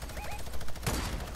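Gunfire in the Fortnite video game: a brief, loud burst of shots cutting sharply through muffled game noise, mixed with faint background chatter.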